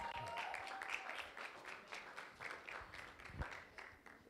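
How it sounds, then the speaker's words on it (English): Scattered applause from a conference audience sounds faint and thin, with individual claps audible, as guests are called up on stage. "give them a round of applause as they come on up"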